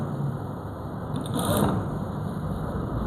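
A sewing machine stitches a straight seam on a salwar pant, a short soft run of rapid needle clatter swelling briefly in the middle over a steady room hum.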